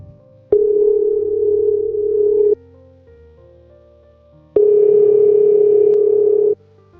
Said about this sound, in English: At 11:47 p.m., the phone rang.